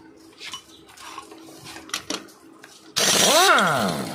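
Work on a Bajaj Avenger 220 clutch housing nut, reverse-threaded: scattered metallic tool clinks and knocks, then a sudden loud whirring burst of a power tool spinning the nut loose, rising in pitch and sustained.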